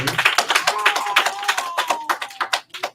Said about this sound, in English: Good, give me a round of applause.